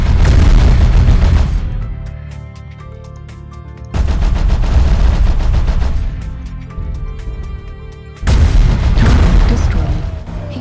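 Heavy mech weapons fire in MechWarrior Online, a Warden Timber Wolf unloading in three loud booming volleys, each a sharp blast that rings out and decays before the next salvo, with no speech.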